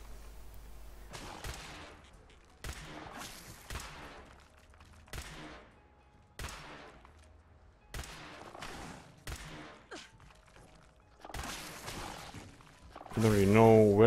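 Gunfire in Fallout 4 during a fight with a lobster mini boss, a string of sharp repeated shots spread across the clip, moderately loud with a player talking between and over them.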